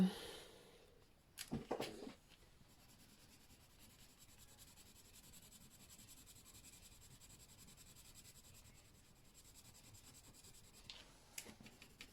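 A Staedtler Ergo Soft colored pencil fills in color on paper with a soft, continuous scratchy rubbing, faint and close, with a few brief louder knocks near the start and end.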